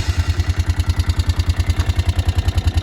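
A Can-Am ATV engine running at a fast idle, a close, loud, steady low chugging pulse with even, rapid firing beats and a mechanical clatter on top, and no voices.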